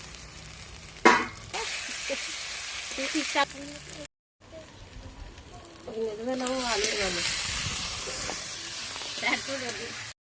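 Ginger-garlic paste, onion and chili fry for a meat curry, a steady sizzle and hiss with stirring scrapes, cooked on a rooftop, while people talk over it and a brief gap breaks the sound.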